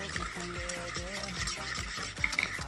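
A sugar, butter and baking powder mixture being stirred in a home kitchen: steady scraping and swishing throughout, close, with a louder clink near the end under a low background hum.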